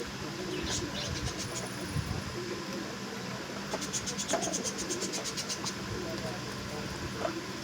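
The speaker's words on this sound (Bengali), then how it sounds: "এখানে ম্যাট্রাস কবুতর আছে" Matras pigeons at a pigeon seller's place, soft cooing and bird calls beneath scratching and shuffling, with rapid chirping bursts and a person talking throughout.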